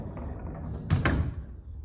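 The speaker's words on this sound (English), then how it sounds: "Close it off with a barn door." Sliding barn door closing off a laundry room in a double-wide trailer: a short rolling slide and then a solid thump as the door shuts, close by and fairly quiet.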